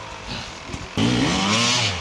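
An enduro motorcycle engine on a B2/B3 race track at Silichi, one of Kayo, BSE, KTM or Sherko dirt bikes, idles faintly, then swells into a loud, close buzzing roar that holds steady before easing slightly.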